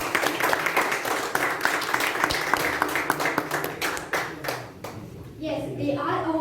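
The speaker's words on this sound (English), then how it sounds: "honor the stars of evaluation contest by giving them a thunderous round of applause" A crowd gives a loud, dense round of applause for contestants at the Periyar Contest 2023, continuous clapping for about five seconds before tapering, with a voice faintly audible near the end.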